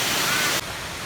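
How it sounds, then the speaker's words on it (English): A forest waterfall in Pisgah National Forest, North Carolina, roars as a loud, steady broadband rush that drops abruptly to a slightly softer wash partway through, as if the view shifts. "Just want to show you guys one more last view of the waterfall on our way out"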